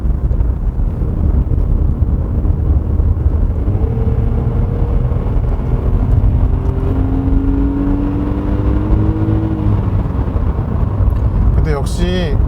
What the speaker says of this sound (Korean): 지금도 가속 페달을 다 밟은 겁니다.